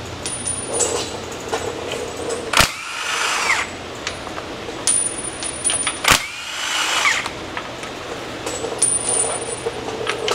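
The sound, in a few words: removing inspection cover bolts with socket on Chevy Express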